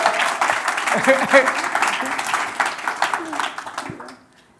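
An audience at a salon-style talk event applauds in a brisk round of clapping that rises, then tapers off over a few seconds, with voices mixed in among the claps.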